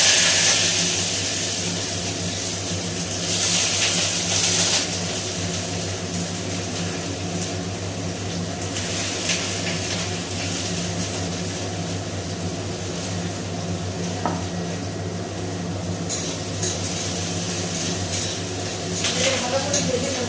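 Onion and green chili frying in hot oil with mustard seeds gives a steady close sizzle and hiss that runs throughout, with occasional clatter from a pan.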